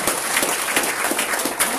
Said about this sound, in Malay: kita bagi tepukan gemuruh kepada Datuk.